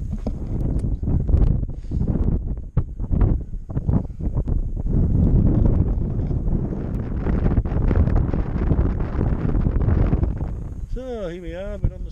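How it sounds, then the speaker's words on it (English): Wind buffets the microphone on the exposed summit of High Pike in the Lake District fells on a May evening, with a steady loud rumble and gusts throughout, then easing near the end as a brief tone sounds. "and a little bit of wind"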